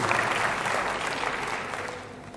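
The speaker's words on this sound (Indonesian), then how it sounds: "Tepuk tangan yang paling meriah dalam Yesus Kristus." Church congregation applauding during a sermon, a dense, steady burst of clapping that holds loud throughout, then eases slightly at the very end, with no voices over it.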